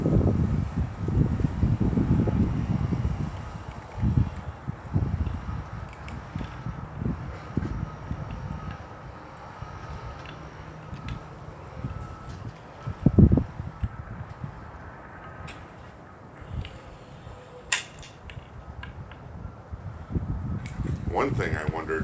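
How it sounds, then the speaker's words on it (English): Gusty wind rumbles and buffets the microphone outdoors, with low roaring bursts rising and falling, including a sharp gust near the middle. "it's a little windy out"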